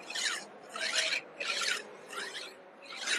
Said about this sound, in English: This is called as a cross filing.